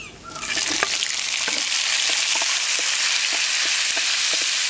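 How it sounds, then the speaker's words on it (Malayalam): Tomato, onion and a piece of tamarind sauté in a pan over roasted dal and dried chillies, giving a steady close sizzle broken by regular scrapes and clicks of stirring. "നന്നായിട്ട് വാട്ടിയെടുക്കുക."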